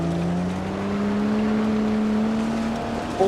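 An off-road car engine revs in the driving simulator BeamNG.drive, a steady rising tone that climbs in pitch as the motor winds up, close and continuous, with a sharp knock right at the end.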